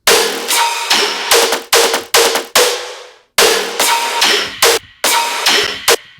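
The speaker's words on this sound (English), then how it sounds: "these reverb throws affect the entire synth group" Bright synth stabs in choppy rhythmic bursts, each cut off sharply with washes of reverb trailing between phrases, no voices.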